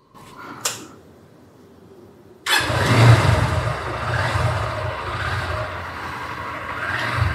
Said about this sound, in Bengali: তো বাইক স্টার্ট দেই।